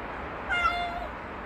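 A mother cat with newborn kittens gives a single short meow indoors, close and clear over a soft background hiss.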